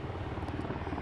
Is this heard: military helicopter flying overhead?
yes